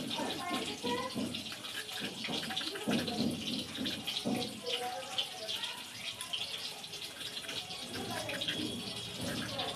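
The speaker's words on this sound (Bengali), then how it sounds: "এটা ধুয়ে নিয়ে পিস পিস করবো।" Running tap water splashes steadily over cut green plantain pieces being washed in a kitchen sink, a continuous close gush with handling sounds and a voice talking intermittently over it.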